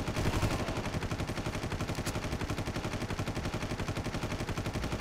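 Video-game gunfire in Far Cry 1 rattles along in a steady, rapid series of sharp bursts for several seconds, loud and continuous with no talk over it.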